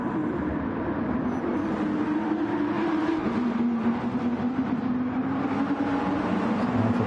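A McLaren race car engine in a racing game drones steadily at mid volume, a continuous rising and falling tone with no talk over it.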